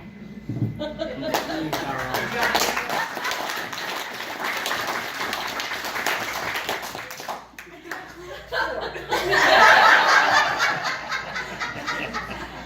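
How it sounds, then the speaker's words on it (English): A crowd claps and laughs together, applause swelling and fading over several seconds, with a louder burst of clapping near the end. "I think we were clapping for him."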